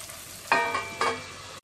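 Sabudana hits hot oil, giving a faint frying hiss with two brief, brighter bursts close together, then a quick drop near the end.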